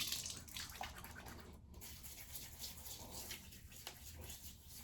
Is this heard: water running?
yes